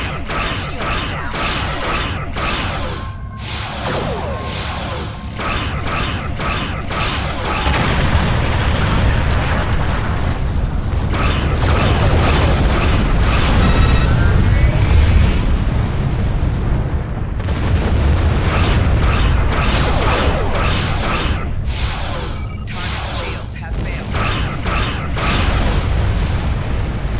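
Heavy torpedo explosions from Star Trek Online blast in repeated booming bursts during a space battle, loud and near, over a continuous rumbling roar with brief sharp cracks.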